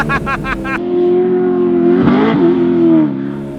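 A muscle car engine on a race track, heard close and loud: a few quick revs, then a sustained high-RPM drone with a brief dip and swell as the throttle is worked.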